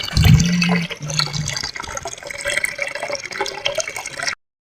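Tap water runs and splashes into a container in a steady gush, with a brief low tonal sound at the start, until it cuts off abruptly near the end.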